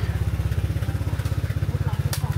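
A motorbike engine putters steadily nearby with a low, rhythmic throb as it passes through a market in Bangkok, Thailand, surrounded by faint street bustle.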